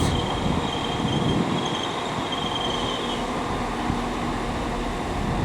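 A Class 195 train moves through Leeds station with a steady rumble of wheels on rails, faint squeals and a long thin tonal whine above it.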